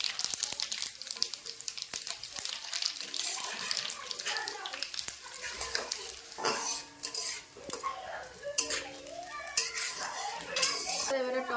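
Cumin seeds hit hot oil in a pan for Bengali khichuri and crackle into a lively sizzle, with a utensil stirring and clinking against the pan close by.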